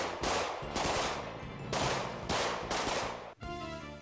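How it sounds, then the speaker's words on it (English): Pistols fire in quick succession at the Bianchi Cup shooting match, about half a dozen loud, sharp reports in a rapid uneven string, each with a brief outdoor echo. "John, Mike, and Carlos step to the line to shoot their first time at the Bianchi Cup."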